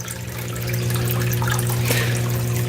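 Flowing water of Cow Creek, a gold-prospecting stream in Oregon, runs steadily and fairly close as a continuous rushing wash, joined by a low steady hum.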